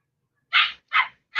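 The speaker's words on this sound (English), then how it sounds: "Oh man, the puppies are loud today." Puppies barking and yelping indoors, three sharp, loud yaps in quick succession, close by, with silence between them and no talking.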